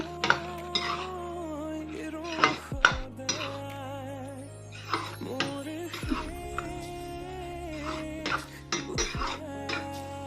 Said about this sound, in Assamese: এয়া ঢাকনি দি মই ভাজি থাকিম